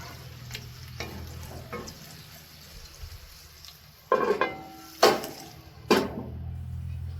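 Bacon hash fries in a one-pan breakfast skillet with a soft continuous sizzle, then a few louder scraping stirs land near the end, with no talking.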